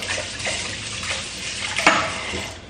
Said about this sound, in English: I'm gonna go ahead and just rinse off this cilantro